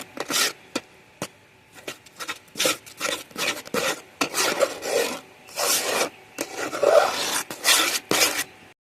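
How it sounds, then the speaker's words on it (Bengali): A spatula stirring milk dough continuously in a pan, heard as repeated close scraping and rasping strokes in an uneven rhythm, with no talk. "এইভাবে এবারে নেড়ে নেড়ে কিন্তু পুরো শুকনো একটা ডো তৈরি করে নিতে হবে, আর অনবরত নাড়তে হবে বন্ধুরা।"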